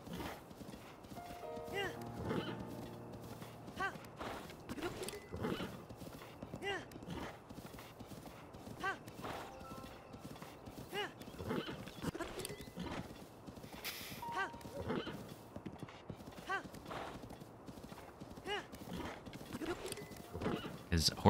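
Video game horse riding: rapid rhythmic hoofbeat clip-clops run throughout, with a horse neigh early on and a person talking over the action.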